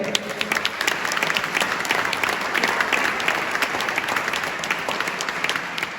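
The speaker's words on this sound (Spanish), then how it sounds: "Un aplauso para él." Audience at a ceremony in Caspe applauds warmly, a continuous, even roll of many hands clapping at moderate distance, sustained throughout with little talk.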